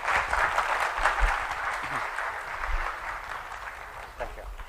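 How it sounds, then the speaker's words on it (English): After a lecture on computational metaphysics, an audience gives Professor Muller a round of applause: steady, moderately loud clapping from a roomful of people, tapering slightly toward the end. "Give him a big clap for this presentation."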